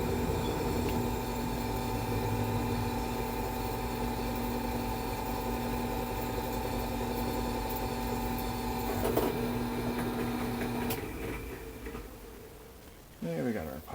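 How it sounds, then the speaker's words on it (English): A drill widens a pilot hole for a center pin while fitting a replacement battery disconnect switch mount on a Chinese mini excavator: a steady motor whine runs for about eleven seconds, then stops, followed by brief handling clatter. "We'll go ahead and widen the pilot hole out for that center pin too."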